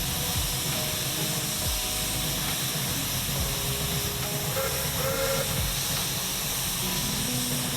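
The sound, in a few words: steam hissing from locomotive stoker jets in a train video game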